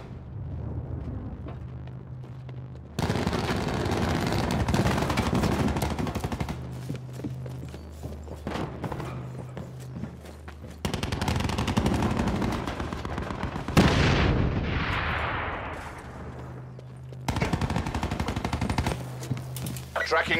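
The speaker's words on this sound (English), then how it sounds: "Sentry firing." An automated sentry gun in Black Ops 4 lets loose long bursts of rapid machine-gun fire, loud and dense, broken by short pauses and a sweeping whoosh midway, with game announcer voices at times.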